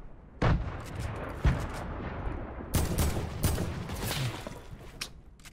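Video-game gunfire during a competitive trio scrim, with sharp loud shots and bursts of firing at irregular intervals over a steady background of game noise.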